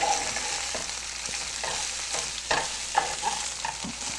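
A small cabbage is stirred with spices in a frying pan over low heat, giving a steady soft sizzle broken by scraping, clattering stirring strokes, close up with no voices.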